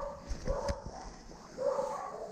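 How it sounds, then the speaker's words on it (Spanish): A small female dog gives a few soft yips and whimpering barks, close by and fairly quiet, in short bursts with pauses between. "Ahí está un perrito nomás, chiquito, bueno, una perrita"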